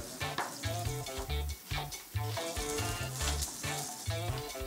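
Onion sizzles in a spoonful of butter in a hot pan, a busy crackling fry with steady bubbling and short rhythmic pulses, fairly faint and with no talking over it.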